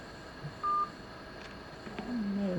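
Telephone line tones as a call disconnects: a short steady beep followed by a sustained electronic tone toward the end over faint background hiss, with no voices.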